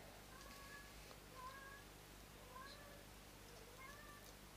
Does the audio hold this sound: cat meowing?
yes